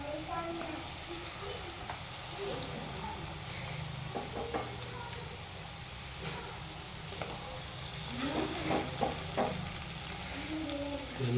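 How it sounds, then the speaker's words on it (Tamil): Gulab jamun balls deep fry in hot sunflower oil with a constant, dense bubbling sizzle that grows slightly busier toward the end, under faint background talk. "எண்ணெய் காஞ்சதை நம்ம ஒவ்வொரு பால்ஸாக போட்டு பொறிச்சு எடுத்துடலாம்"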